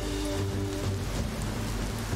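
Steady rain falls in the video game Biomutant, a dense, unbroken hiss of drops on surfaces with a low rumble underneath, continuous and fairly loud throughout with no voices.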